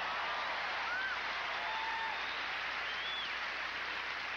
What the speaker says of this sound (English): Very appreciative crowd.